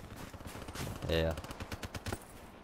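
A Kuda submachine gun fires in bursts in the Black Ops 3 shooter during a hardcore team deathmatch, with rapid, punchy shots in quick clusters over game background and a voice talking.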